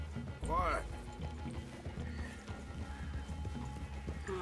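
Horses in the Red Dead Redemption 2 video game, with one sharp whinny near the start followed by soft hoof clops and snorting, heard beneath quiet game ambience.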